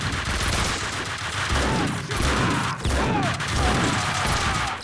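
Heavy continuous gunfire in Max Payne 2, dense overlapping shots with crashing impacts in a relentless, loud barrage throughout.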